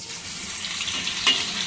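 Fish fries in hot oil in a pan, a steady close sizzle with a brief louder crackle near the end and no talking.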